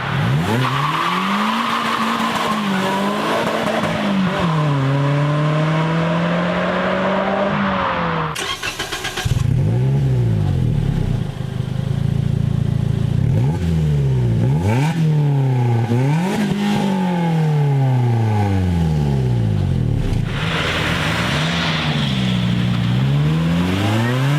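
Loud Toyota Yaris GRMN 1.8-litre supercharged engine revving repeatedly, rising and falling in pitch through several sharp bursts, with a whiny supercharged tone, close by and without talk.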